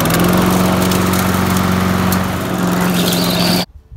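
A lawn mower engine with a freshly cleaned, oil-fouled spark plug runs close and loud with a steady buzzing drone, then cuts out abruptly near the end.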